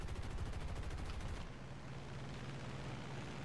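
Aircraft machine guns firing from a P-47D in War Thunder arcade mode, a dense rattling burst of quick shots lasting over a second, then cutting off to leave a steady engine drone.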